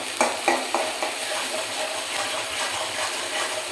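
Onions dropped into hot oil for a shortcut biryani, a dense close sizzle with a few sharp bursts at the start settling into steady frying, no talk.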